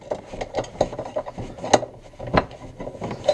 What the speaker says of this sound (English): You can tighten the nut.